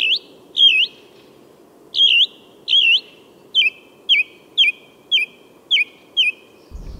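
Chaffinch singing outdoors on an overcast, cool, still day: repeated bright, descending song phrases, about a dozen short bursts at fairly steady intervals, clear and moderately near over a soft background hum.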